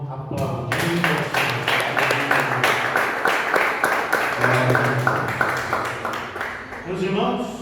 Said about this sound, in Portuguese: Levante sua mão, aplaudindo.